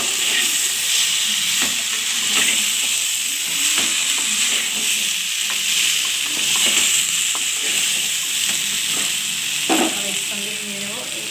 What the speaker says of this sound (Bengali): সমস্ত আনাজটা ঢেলে দিলাম এরপর একটুখানি উল্টে পাল্টে ভেজে নেব